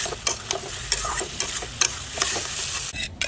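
Country chicken pieces stir-fried in a pan for a curry, a steady close sizzle with repeated scraping strokes of the spoon at an uneven rhythm.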